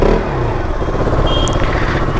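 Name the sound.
KTM motorcycle engine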